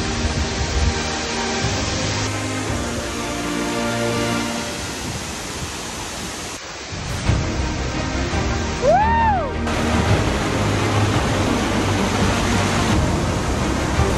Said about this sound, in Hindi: ये सेकंड वाटरफॉल